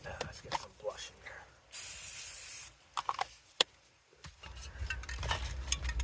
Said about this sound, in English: spray some black on it about halfway up the planet